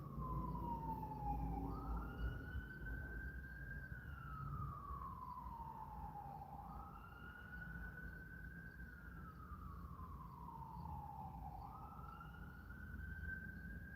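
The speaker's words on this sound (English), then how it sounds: "Ambulance, excuse me." An ambulance siren wailing in a slow rising and falling cycle, repeating about three times, steady and fairly distant over low traffic rumble.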